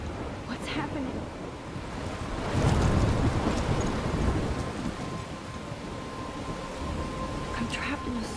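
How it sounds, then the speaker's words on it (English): A thunderstorm in the video game Life is Strange: steady rain and gusting wind with a rolling rumble of thunder swelling in the middle, heard at moderate level without talk. "I'm trapped in a storm?"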